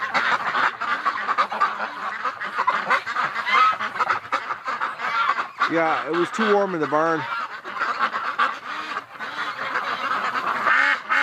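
Muscovy ducks on a cold farm running toward water give repeated honking, quacking calls, loudest midway, while someone talks over the flock.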